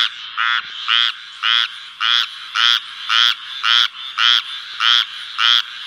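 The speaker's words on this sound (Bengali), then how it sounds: "ব্যাঙের ডাকাডাকিতে একেবারে অতিষ্ঠ হয়ে গেছি।" A cartoon frog croaks in a loud, regular series of about ten rasping calls, evenly spaced and close, with no talk over them.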